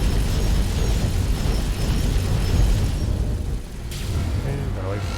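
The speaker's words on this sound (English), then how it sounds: "Even though it makes the gunfire very loud." Heavy gunfire and explosions in a combat video game, a dense continuous rumble of booms and bursts, loud throughout, easing slightly near the end.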